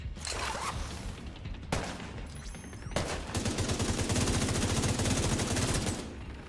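Gunfire in the video game The Division 2: repeated bursts of rapid automatic shots, loud and close, broken by short gaps, with a dense sustained volley in the second half.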